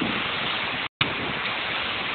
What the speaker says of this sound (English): So it's raining really hard,